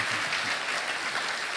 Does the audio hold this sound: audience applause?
yes